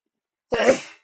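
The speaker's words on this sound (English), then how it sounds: "I had to sneeze since 15 minutes." A single short human sneeze bursts out close to the microphone after silence and then fades quickly.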